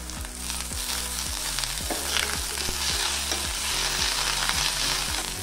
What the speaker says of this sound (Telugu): రెండు నిమిషాలు పుదీనా ఇంకా కొత్తిమీర కూడా బాగా వేగిన తర్వాత